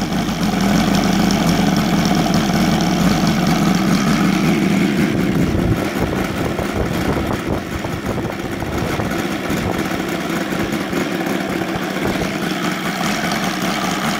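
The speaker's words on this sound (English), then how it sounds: "Let me try to bring the idle just a tad lower." OS Sirius 7 FR7-420 seven-cylinder radial engine, converted to run on gasoline with CH Ignitions CDI, idling loud and close with a steady rough throb that dips slightly lower partway through.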